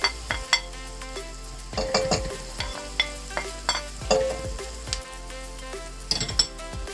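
Onion and garlic sauté in a pan for spaghetti. A constant sizzle sits under repeated metallic scraping and clattering of a utensil against the pan, in irregular bursts.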